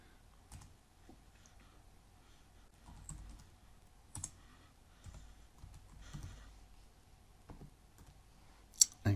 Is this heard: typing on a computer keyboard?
yes